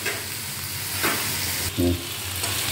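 Ivy gourd (kovakkai) curry sautéing in a pan, a low steady sizzle with a few louder stirring scrapes and clatters, close and alone with no talk.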